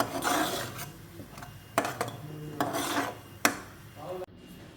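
A spoon scrapes and rasps around a cooking pot as chicken, chana and masala are stir-fried, giving steady irregular scraping with a few sharper knocks against the metal and no voices.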